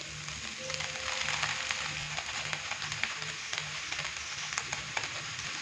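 Chicken frying in a pan, a steady bright sizzle with occasional stirring clicks and scrapes, close and continuous with no talk.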